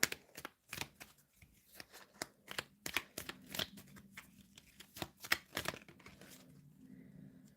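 Tarot cards being shuffled and drawn at close range, a quick run of crisp papery riffles and snaps that slows and softens toward the end, with no talking.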